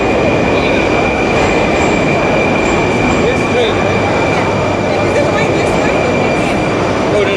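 A train rolling on rails, heard from inside the carriage as a steady loud rumble and hiss with faint wheel squeal and a sustained tone above, continuous throughout with no talk.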